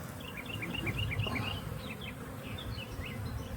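Honey bees buzz around new hives outdoors in a park, a continuous soft hum with individual bees zipping past nearby, fairly faint, with no talking.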